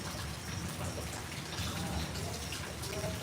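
Heavy, steady downpour in Hingoli, a dense unbroken hiss of rain falling on surfaces close by, even in loudness throughout with no clear voices.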